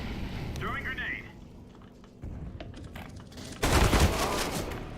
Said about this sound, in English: Deploying flashbang. Incendiary. Throwing grenade.